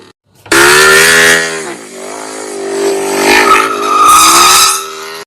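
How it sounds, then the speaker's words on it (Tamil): A vehicle moves slowly past up close, its engine giving a loud, steady droning whine that swells and dips for about five seconds with no talking. "வண்டிய சாவு ஊர்வலம் மாதிரி ஓட்டுறீங்க"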